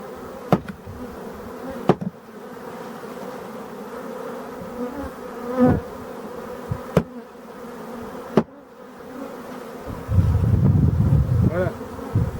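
Honeybees buzz steadily in a thin, wavering drone while a colony is moved into a new hive, punctuated by several sharp knocks on the hive edge and a louder rustling burst near the end, with no voices.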